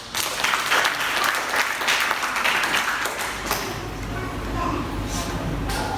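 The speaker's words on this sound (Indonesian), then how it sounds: "Berikan tepuk tangan." A church worship audience gives loud, continuous applause with sharp individual claps, easing slightly in the second half while staying steady.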